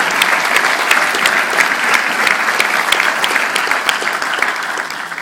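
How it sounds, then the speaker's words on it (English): A big round of applause from an audience at an event, thick continuous clapping of many hands, loud and even from start to finish with no speech over it. "Give her a big round of applause."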